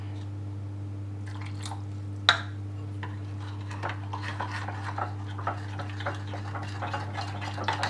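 Sesame paste sauce is stirred in a bowl, making soft, irregular wet clicks and squishy taps up close over a steady low electrical hum, with one sharper knock early on.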